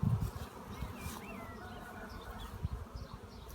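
Honeybees buzzing at the hive, a faint continuous hum with low rustling near the start and single bees droning past nearby.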